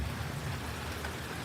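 Steady rain falling on plant pots outdoors, a dense even hiss of drops close by with a low rumbling undertone, continuous and unbroken with no voices.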